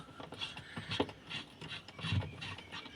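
A part being threaded back into an LG Fuzzy Logic washing machine: close, scraping and ratcheting plastic-on-metal rubs with small clicks, a rhythmic series of short grinding turns, no talking.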